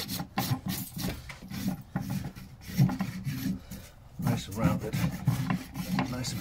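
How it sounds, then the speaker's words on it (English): A farrier's rasp scrapes across a rebuilt horse hoof, trimmed and glued, in repeated rough strokes with a steady rubbing rhythm, close and moderately loud, with a short pause midway. "you can trim it and you can rasp it like normal foot"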